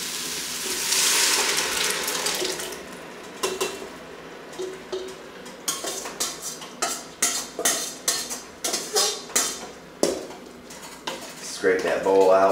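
A spoon scrapes tomatoes and spices out of a bowl into a pot of vegetarian chili, giving a run of rhythmic, close scraping and clinking strokes.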